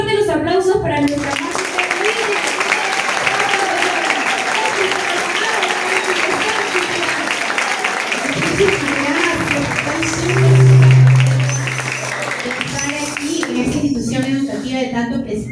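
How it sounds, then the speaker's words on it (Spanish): Audience applause fills the room at a public presentation, a dense steady wash of clapping from a crowd that holds for most of the stretch, with scattered voices mixed in beneath it. "Fuertes los aplausos para nuestra"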